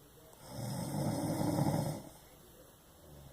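A sleeper gives a single heavy snore, a drawn-out rattling inhale close by, then the room falls quiet.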